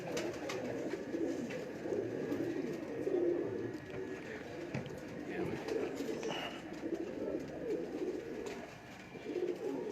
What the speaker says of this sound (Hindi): यहाँ पे एक मेरा बड़ा पसंदीदा कबूतर है, इंडियन कबूतर है